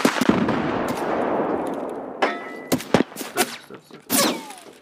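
Suppressed gunfire in a shooter video game on the Lighthouse map, heard as a run of sharp, muffled shots in uneven bursts over the last half, following a stretch of broadband background noise.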